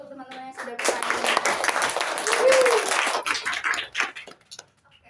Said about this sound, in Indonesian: Boleh tepuk tangan dulu untuk teman-teman yang sudah bertanya.